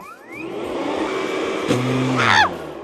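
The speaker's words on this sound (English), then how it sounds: "the leaf blower should act as a vacuum" A leaf blower drones steadily in vacuum mode, its pitch rising at the start, with a brief clatter and whistling surge near the end.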